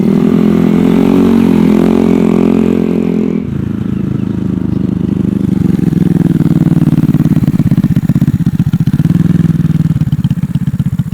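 Honda Ruckus scooter with a 171cc GY6 engine running loud and close, with a steady buzzing idle that lifts and settles as the throttle changes.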